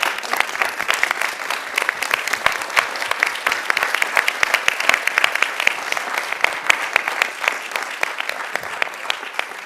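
A standing audience at a commission meeting and budget hearing gives Linda a long, lively round of applause, many hands clapping in a loud, crisp, sustained wash.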